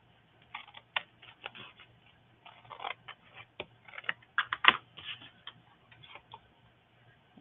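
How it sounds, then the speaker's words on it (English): A paper cutter trims a masterboard in a series of sharp clicks and ticks, some closer together and one louder snap near the middle, over a faint steady hum in an otherwise quiet room. "Oh, let me trim this"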